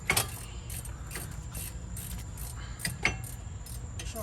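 A brake caliper is fitted onto an Infiniti Q50 during a brake rotor upgrade, giving a few faint, scattered metallic clicks and taps against a quiet background.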